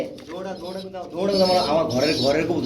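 Racer pigeons coo in soft, repeated rolling calls close by, overlapped by people talking nearby.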